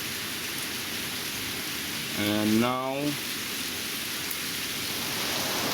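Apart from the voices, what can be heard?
heavy rain falling in spring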